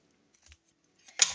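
Scissors snip through lace with a few faint clicks, then one crisp, close cut.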